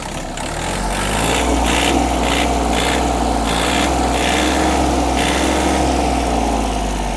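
A Yanmar RS-240 mini tractor engine revs up from idle and holds a loud, steady throaty roar close by, with a clattering mechanical rhythm.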